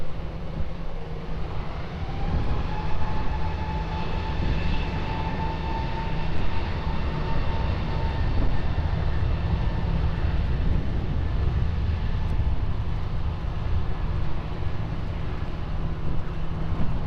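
A fixed-wing airliner roars steadily on takeoff from runway 20 at Lisbon Airport, a broad continuous engine rumble with a rising whine, heard from a distance outdoors and without talk.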